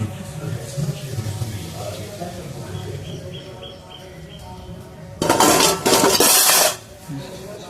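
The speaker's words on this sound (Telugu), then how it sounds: "వెళ్ళి బియ్యం కడుగుదాం." Rice grains are rinsed in a metal vessel in a home kitchen, with soft clinks and scraping, then a loud rush of running water for about a second and a half near the end.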